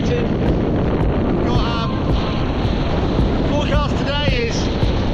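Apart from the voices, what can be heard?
strong gusting wind on a beach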